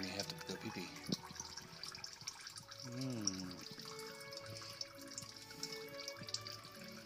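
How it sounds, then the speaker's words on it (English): Engine oil trickles and drips from a cracked-loose oil filter during a home oil change, a steady liquid run with occasional drips at close range, with a voice briefly in the background. "Crack the filter, just crack it until oil starts running out, and then take your hand off of it and let it drip."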